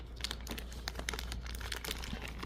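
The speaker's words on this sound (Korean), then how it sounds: "이 안을 이렇게 정리해서 깔끔하게 비닐만 정리해 주시면 돼요" A plastic rain cover sheet for a camera crinkles and rustles continuously as it is handled and tucked in, a quiet, dense crackling over a low steady hum.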